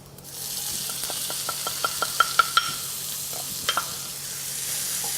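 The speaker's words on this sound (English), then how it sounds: "Just want the garlic to go a tad bit golden, releasing its aromas" Garlic, onions and celery fry in a pan as the base for a lasagna, giving a constant close sizzle with a run of quick tapping clicks from stirring.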